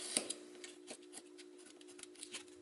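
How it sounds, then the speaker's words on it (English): A blade trims the ends off chipboard strips with faint, quiet cuts and light ticking clicks spaced irregularly over a few seconds, with no talking. "I'm just going to trim these ends off."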